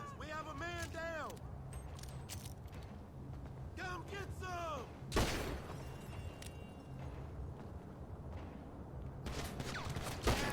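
Gunfire in GTA 5 Online crackles in scattered bursts and single shots, with one loud blast midway. Voices talk over much of the shooting, and game sounds and a steady background hum run throughout.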